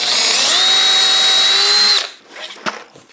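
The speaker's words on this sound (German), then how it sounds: "Ich glaube, es würde nicht schaden, wenn wir ein bisschen vorbohren." A power drill whines loudly and steadily for about two seconds while pre-drilling screw holes in a table, then stops, followed by a few faint clicks and handling knocks.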